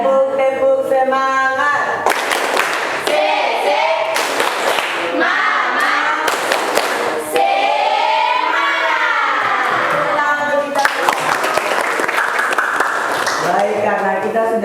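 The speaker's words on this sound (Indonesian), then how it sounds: "Jadi kita tepuk semangat satu kali dulu ya" A seated audience at a teacher-training session in Ambon performs the 'tepuk semangat' spirit clap, with bursts of rhythmic group clapping alternating with loud chanted and shouted voices, and a leader calling out between the claps.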